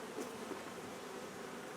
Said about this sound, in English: the bees are going around the back now to get in